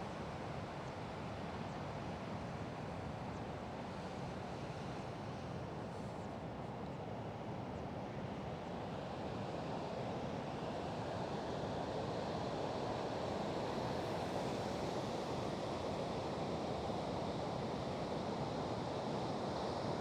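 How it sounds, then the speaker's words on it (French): Atlantic surf pounds the beach at Figueira da Foz, Portugal, with wind buffeting the microphone, a continuous broadband roar of breaking waves swelling slightly louder over twenty seconds, with no voices. "On peut dire qu'il y a des vagues, hein."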